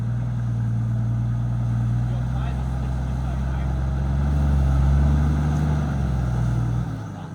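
A 4x4 on slick tyres spins for traction in mud on an off-road track, its engine droning loud and steady, swelling to a heavier rev midway before easing off near the end.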